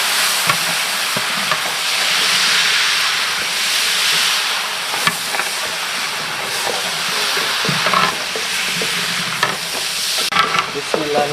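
Onions fry in a pan for goat biryani, a loud, continuous sizzle and hiss close by, with occasional scrapes and knocks of stirring and no talk.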